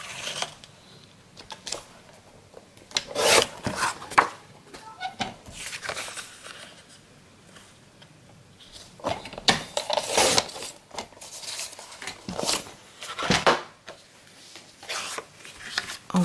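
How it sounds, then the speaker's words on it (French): A piece of cardstock is cut to size with a paper trimmer for card making, giving short scraping and slicing bursts spread irregularly through quiet gaps, close and moderately loud. "On va découper à 12. À 12 par 10 notre morceau de cardstock."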